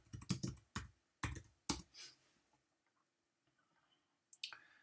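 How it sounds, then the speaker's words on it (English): Quick bursts of clicky computer keyboard typing, several close, distinct clusters of keystrokes in the first two seconds, a near-silent gap, then a final short flurry of key presses. "type in here Herbalife"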